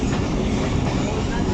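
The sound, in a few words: Lasani Express train at Paslu railway station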